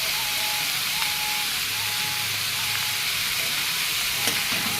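Khichdi gets stirred in a hot pot with spices and salt, a continuous frying hiss with soft scraping and light clinks of the spoon, steady and close, with no talking.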